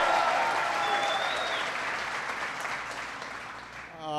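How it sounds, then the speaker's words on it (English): Sustained applause from a large audience inside an automotive plant building the Jeep Wrangler, broad and steady for several seconds, tapering slightly toward the end. "Give him a big round of applause."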